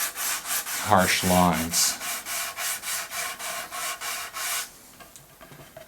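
Rhythmic back-and-forth strokes of 220-grit sandpaper rubbing over a 1973 Fender Stratocaster body, steady and close, with a brief spoken phrase early on before the sanding fades out near the end.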